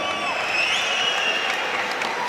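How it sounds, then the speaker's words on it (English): Crowd at a boxing event in Glasgow applauding the fighter Nonito Donaire: steady, dense clapping and cheering from a large arena audience, sustained throughout with whistles and a faint announcer's voice under it. "Nonito Donaire receiving generous applause from the crowd here in Glasgow."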